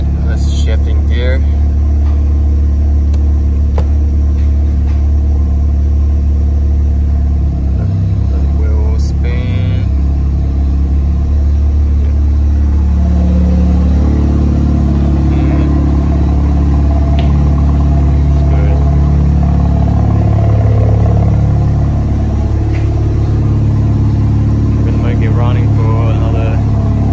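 A Mazda RX-7 FD's engine idles, then is shifted into gear. A deep, steady rumble runs throughout, loud and close, with a person speaking over it at times.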